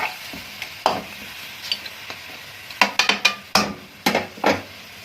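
A spoon stirs mutton karahi in a pot after salt and water go in, giving a series of sharp scraping and knocking strokes, sparse at first, then quicker and clustered, close up with a faint sizzle underneath.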